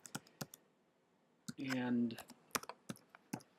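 Scattered clicks and keystrokes on a computer keyboard sound close and fairly faint, with a brief spoken word in the middle.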